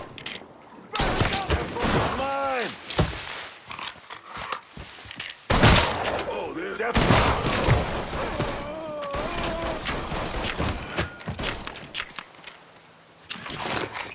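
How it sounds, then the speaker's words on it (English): Video game gunfire from Mafia 3: Definitive Edition, several loud bursts of shots and impacts during a firefight, mixed with shouting voices and engine-like rumble across the scene. "What the hell else is shooting over there?"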